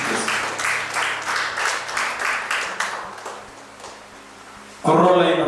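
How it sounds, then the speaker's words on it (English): Audience applause at a short film festival awards ceremony honoring the chief guest: a dense patter of clapping that gradually thins, with a voice speaking loudly near the end. "Let us give a round of applause to honor our chief guest."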